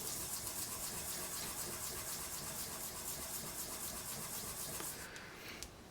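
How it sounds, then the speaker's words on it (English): Knife-lock washers rubbed in circles on 1000 grit sandpaper, producing a quiet, continuous gritty rubbing and scraping that fades slightly near the end. "I just put them down on the sandpaper, and I'm going to make about 20 circles."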